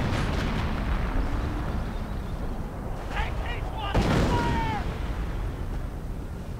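Hummel self-propelled artillery fires in a multiplayer strategy game, a loud boom with a rumbling tail, layered over battle noise and a commentator's voice.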